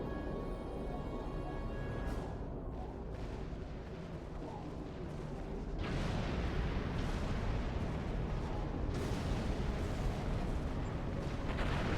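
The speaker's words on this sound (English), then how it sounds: "something's exploding" Explosions in the space game Star Trek Online, a continuous deep rumbling roar that swells louder and denser about halfway through, with bursts of broadband crackle and no talking.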